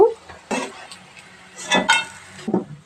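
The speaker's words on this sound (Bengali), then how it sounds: "এই যে আমার মাছগুলো লাল লাল করে একটু ভেজে নিচ্ছি" Tengra fish frying in oil in a pan, with a few short bursts of clattering and stirring against the pan over a low sizzle, close and moderately loud.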